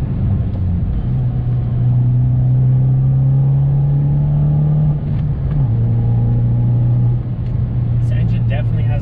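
A Fiat 500 Abarth's small engine runs inside the car as a loud, steady droning rumble whose pitch shifts slightly as it settles, with a voice talking over it.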